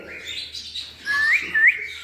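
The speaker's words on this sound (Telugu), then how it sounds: "ఎంత మంచి విజిల్స్ వేస్తున్నాయో చూడండి" A couple of short rising whistles from cockatiels ring out over soft chirping, clear and nearby with no voices.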